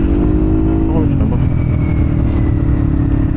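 A Yamaha Aerox 155 scooter with a new aftermarket exhaust revs loudly and close by, its engine note rising briefly near the start then holding a steady drone while someone talks over it.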